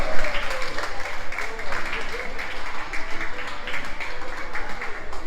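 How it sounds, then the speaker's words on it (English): Audience applause at a sea lion training show, a broad, steady wash of clapping from a sizable crowd that runs the whole time, with voices mixed in underneath. "Everyone give a round of applause."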